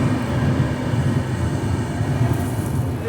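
Loud, steady rumble of a packed Sachkhand Superfast Express train running near Beas Junction, a dense low roar with constant wheel and carriage noise and no pauses, heard close from inside the train.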